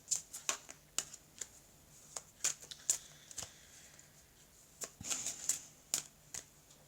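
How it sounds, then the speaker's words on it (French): Tarot cards being shuffled and cut by hand, soft papery riffles and crisp flicks coming in irregular bursts, quiet and close with no voices. "je vais couper les cartes"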